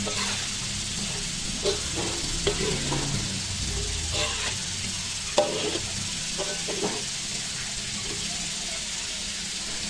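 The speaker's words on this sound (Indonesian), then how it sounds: "Bentuk kue ini bulat, jadi agar matang ke semua sisi, kita aduk-aduk terus" Round bolu rangkah cake balls, made from egg, sugar and flour, cook in a pan under a steady sizzling hiss. A utensil stirs them with scattered scraping knocks that stand out now and then, close and moderately loud.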